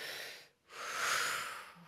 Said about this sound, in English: So let's do one called the Triactive breath,